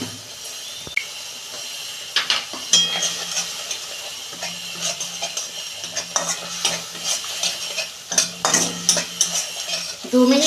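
Spice paste with turmeric and green chilli is stir-fried in a pan for a vegetarian curry, with steady sizzling under repeated scraping and clinking of a spoon against metal, close and continuous with no speech.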